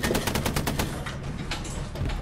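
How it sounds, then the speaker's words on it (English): Rapid gunfire in the WWII shooter Hell Let Loose, a burst of sharp, evenly spaced shots in the first second, then scattered, more distant cracks over a continuous rumble of battle. "I don't know where that shot came from"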